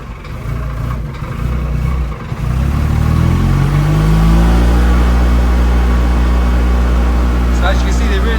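A Vexel Quovis 500cc wheelchair accessible vehicle drives along at low speed with only 26 miles on it, its small engine droning steadily and rising in pitch as it speeds up, close and continuous inside the cabin.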